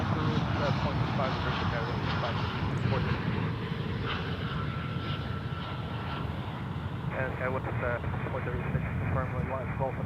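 A passenger airplane takes off at Dallas/Fort Worth International Airport on a mild winter day with a light crosswind, its engine roar steady and broad throughout while people talk over it.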